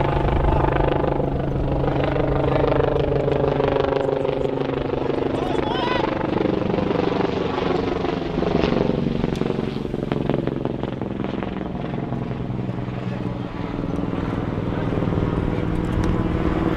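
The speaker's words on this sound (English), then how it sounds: "The helicopter passed by" A loud helicopter rotor thunders continuously overhead at a polo match, its drone shifting in pitch as it passes, with a commentator's voice talking over it.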